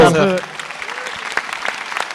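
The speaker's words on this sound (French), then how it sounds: "On va l'applaudir." An audience at a film screening and debate starts to applaud, scattered claps building softly after a voice ends at the start, the clapping thin and somewhat distant.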